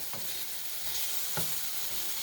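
Apples frying in a pan while being stirred, a constant close sizzle with a couple of brief scraping stirs of a utensil through the fruit.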